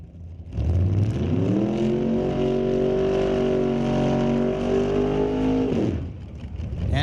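A drag racing car at Mission Raceway blasts down the strip, its engine rising sharply to a loud sustained howl for about five seconds, pitch climbing through the gears, then cutting off abruptly into fading background noise.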